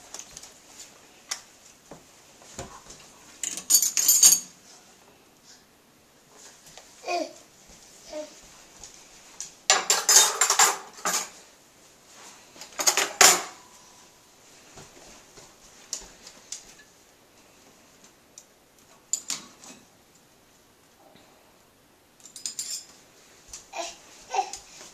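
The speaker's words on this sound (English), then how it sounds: "Can you put the rest of the silverware away?" Silverware and dishes clink and clatter in bursts as they are loaded into a dishwasher at home, with quieter gaps between, while a child babbles and an adult talks softly.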